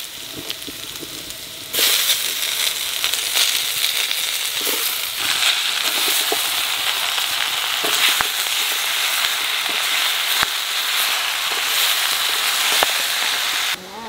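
Potatoes fry in a pan set over a large clay stove, and the sizzle swells into a loud, continuous hiss once Malabar spinach is added, holding steady with occasional crackles until it suddenly drops away.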